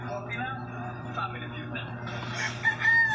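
A rooster crows loudly nearby, its call rising toward the end, over a steady low background hum.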